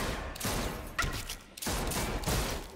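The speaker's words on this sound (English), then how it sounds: "She's shooting again." Dense, loud bursts of gunfire in The Walking Dead Telltale video game, a sustained volley broken by two brief gaps.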